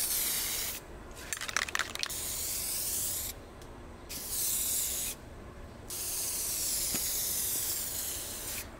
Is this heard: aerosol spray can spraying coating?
yes